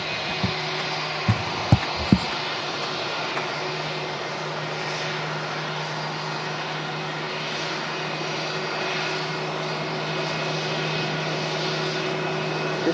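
An aircraft at Manchester Airport gives a steady, close engine drone with a low hum that holds for the whole stretch. A few sharp knocks come early on. No one speaks.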